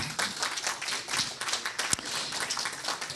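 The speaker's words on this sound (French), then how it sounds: "Vous pouvez l'applaudir." Audience applause at a colloquium round table on economics, a dense, busy crackle of many hands clapping at once, steady and fairly loud throughout.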